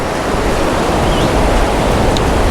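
River rushing below a bridge near a waterfall, a loud, steady broadband roar of flowing water with wind mixed in, constant throughout.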